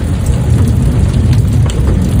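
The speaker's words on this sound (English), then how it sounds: "Out in the rain here" Steady rain falling outdoors around a 2002 Toyota Camry 3.0-liter V6, a dense, even hiss of drops pattering on nearby surfaces, loud and close, with occasional heavier splats.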